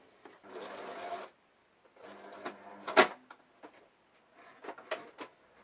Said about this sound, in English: once again I'm gonna sew along this edge